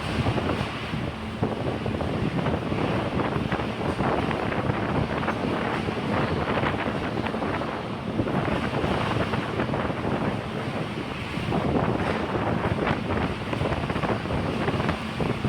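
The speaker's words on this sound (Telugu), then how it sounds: "చాలా గాలి వేస్తుంది." Strong gusty wind as clouds gather ahead of rain, a loud continuous roar buffeting the microphone with rising and falling surges throughout, no voices heard.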